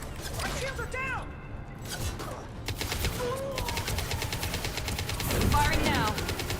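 Rapid gunfire and bursts of automatic weapons in the sci-fi shooter Mass Effect 2, crackling volleys over game noise with voices talking through the combat.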